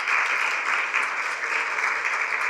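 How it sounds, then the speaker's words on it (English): A dense, steady round of audience applause at an organizational event honoring staff, many hands clapping together at an even level for the whole stretch. "Give them a round of applause."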